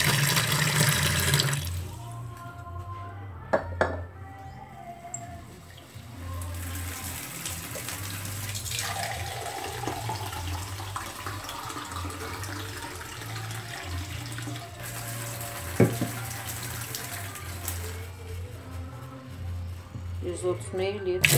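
Half a litre of liquid poured into a large batch of homemade liquid soap made with caustic soda: a steady pouring, gushing flow throughout, under intermittent speech and faint handling noises.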